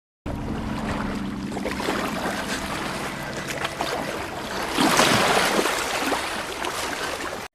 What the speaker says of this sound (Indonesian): Kitae dan Suin mencoba menaiki perahu untuk menyeberang.